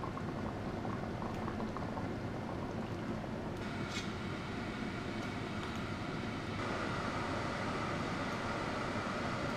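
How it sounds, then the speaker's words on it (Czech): Hot beef broth is poured onto tomato paste in a cooking pot, the liquid bubbling and boiling vigorously and continuously at close range, with a few light clinks along the way. "takhle krásně ho nalejeme na rajčatový protlak"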